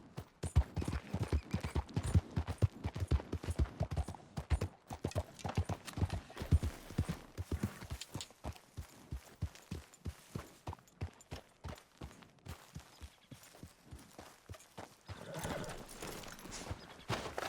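Horse hooves pound in a steady, rapid clip-clop gallop throughout, loud and close, in the video game Red Dead Redemption 2, with faint background game sounds.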